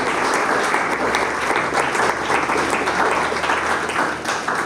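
An audience at a career panel and goal-setting workshop applauds an honoree, with a steady, dense wash of many hands clapping at consistent volume throughout and no speech over it.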